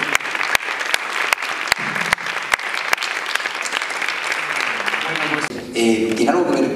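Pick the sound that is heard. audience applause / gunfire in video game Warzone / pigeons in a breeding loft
audience applause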